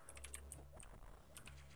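Mechanical computer keyboard typed on during Metroid Fusion gameplay, a quick run of clicky keystrokes close to the microphone over a steady low hum from the game, with no talking.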